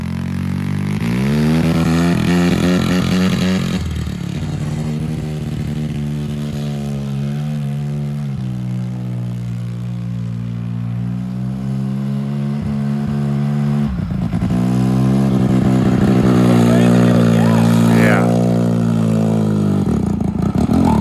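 An engine revs steadily under light throttle, a loud, close, rumbling drone with harmonic pitch rising and falling in slow swells across the whole stretch, with no talking over it.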